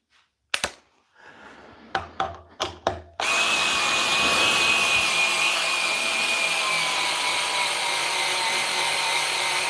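A cordless drill driver labours to sink a screw into wood through a pilot hole: a few short bursts, then a long, loud, steady strained whine with a grinding edge, close by and with no talking.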